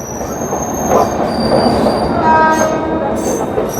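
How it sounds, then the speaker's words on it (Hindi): The Delhi–Azamgarh Kaifiyat Express rolls past at close range in India, a loud continuous rumble of wheels and carriages with faint squeals and rhythmic clatter, steady throughout without speech. "और ये जा रही है दिल्ली आजमगढ़ कैफियत एक्सप्रेस"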